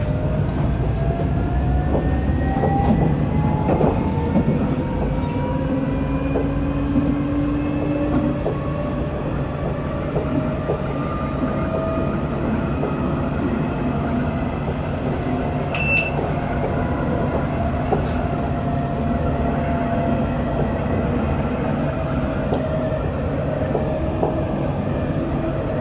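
A Nottingham tram running near the Bulwell Forest level crossing, with steady rail rumble, rising and falling motor whine, wheel clatter and a brief chime, loud and close throughout.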